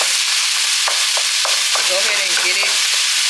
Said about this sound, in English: So what I'm gonna do now is go ahead and chop the ground beef up.